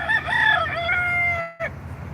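A rooster crows once, loud and close, a long drawn-out cock-a-doodle-doo that cuts off abruptly, with a faint low background hum.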